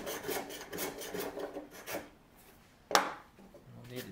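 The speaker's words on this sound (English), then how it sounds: "So the first step is going to be to chamfer this edge so I don't blow it out." A hand tool rasps rhythmically along the wooden edge of a shave horse rail being chamfered, with close repeated strokes, then a pause and a sharp knock before scraping resumes.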